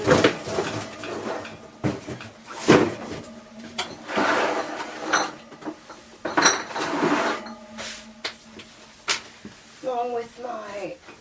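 Jars and cans of tomato sauce and applesauce get shifted around on pantry shelves, with repeated close clunks and knocks of glass and metal as a voice talks over much of the handling.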